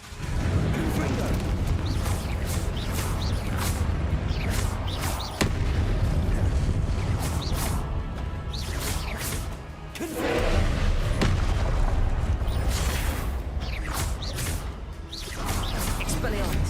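Repeated Confringo blasting-spell explosions boom through Hogwarts Legacy combat, loud and continuous over many seconds with heavy thuds and crashes, while a voice talks over the action.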